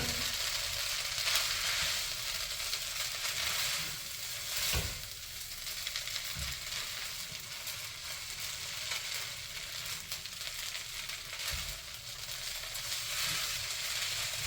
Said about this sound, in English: Mix it with something that looks like a pitchfork.